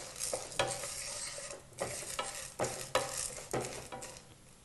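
Chana dal and spices stirred in a hot pan, a steady sizzle broken by rhythmic scraping strokes about once a second, close and fairly loud with no voices.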